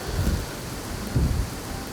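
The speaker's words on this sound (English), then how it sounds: "Unfortunately, it brought rain." Rain falling during an early-season archery hunt, a steady hiss with two low rumbles of thunder rolling through, no voices.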